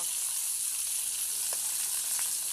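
Fish fries in a pan over a wood fire with a dense, even crackling sizzle, steady and close, with a couple of faint clicks.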